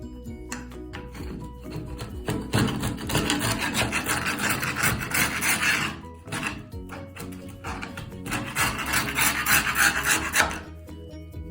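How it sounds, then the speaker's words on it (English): A knife scrapes moldy caulk out of a tile corner and edge, giving close, steady rasping strokes in two long bursts separated by a brief pause. "Using the knife in the corner, I was able to get most of it out of here."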